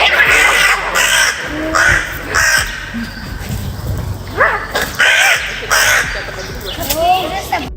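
A crow harassing a cat caws loudly and close by in repeated harsh bursts, several calls spaced irregularly with brief gaps between them.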